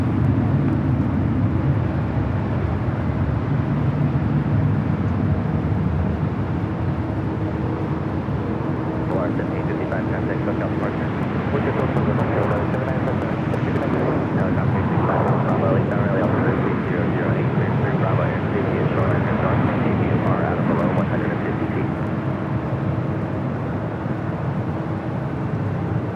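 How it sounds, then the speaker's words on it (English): An Allegiant Air Airbus A319 in Las Vegas Raiders livery takes off at LAX, a steady broad jet roar swelling in the middle and sustained at a distance, with speech over the top. "Allegiant Air 301 taking off to Bellingham on the A319 in the Las Vegas Raiders livery"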